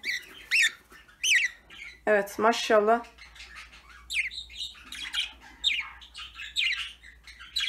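A young Indian bulbul in an aviary room gives repeated sharp chirps and squawks in short bursts, close by, while a person talks over and between the calls.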